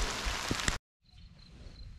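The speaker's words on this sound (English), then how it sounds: "It's starting to rain pretty good" Steady broadband rain hiss for the first part, then a sudden drop to silence followed by quieter rainfall with faint insect chirping.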